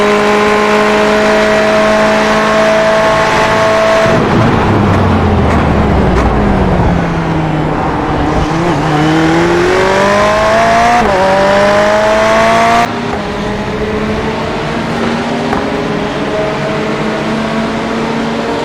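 Ferrari 488 race car in iRacing at the Red Bull Ring, its engine loud and up close, winding up through the gears with rising harmonic whines, dipping on downshifts, then climbing again with steady high-revving roar.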